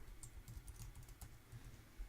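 Keys on a computer keyboard tap quietly in quick, irregular bursts as a password is typed, the clicks faint and close with no talk.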